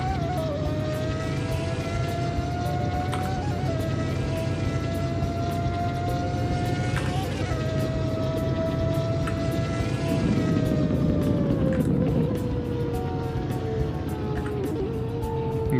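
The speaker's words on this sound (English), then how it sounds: "Driving this car in manual mode is so much fun." Car engine in manual mode in the Roblox game Southwest Florida, a loud steady drone with rising and falling revs and gear changes throughout, no talk.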